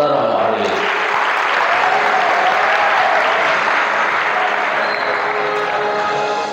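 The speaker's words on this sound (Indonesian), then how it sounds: "tunjukkan tepuk tangan antum untuk Nusantara" An audience at a Gontor boarding school in Banyuwangi applauds strongly and steadily, a loud wash of continuous clapping from a large crowd, with a voice heard briefly at the start.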